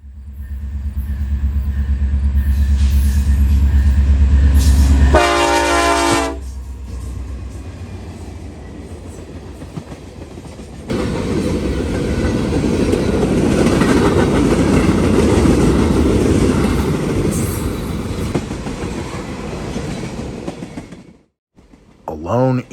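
Norfolk Southern westbound Manifest 179 freight train, with a lone ES-44AC rear DPU, passes on the Dayton District near West Jefferson: deep loud rumble, a bright horn-like tonal burst, then a long clattering roll of wagons before fading.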